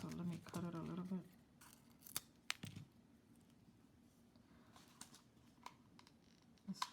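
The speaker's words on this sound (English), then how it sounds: "this one's not gluing, so let me cut it a little bit." Scissors snip through craft material for a fairy garden, a short burst of close cutting near the start followed by sparse light clicks and taps, with a voice heard briefly at the opening.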